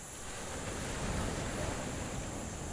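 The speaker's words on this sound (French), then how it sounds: "le roulis des vagues puissantes qui s'échouent continuellement sur le sable fin" Powerful waves break continuously on fine sand, a steady broadband wash of surf that holds at an even, fairly loud level with no distinct individual crashes.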